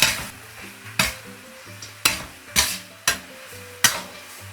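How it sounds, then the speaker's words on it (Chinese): Eggplant strips stir-fried over high heat in a wok with dried chilies, garlic stems, soy sauce and oyster sauce: six sharp spatula scrapes and clanks at a steady pace over a soft sizzle, with background music throughout. "大火翻炒均匀，让茄子充分入味"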